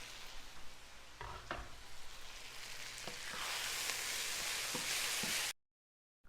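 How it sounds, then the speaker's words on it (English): Garlic stirred into vegetables frying in a pan for a rabbit ragu, a steady sizzle with a few soft scrapes and clinks of the spoon, close and fairly quiet, ending abruptly. "we're going to take real garlic, we're going to add it right in the middle,"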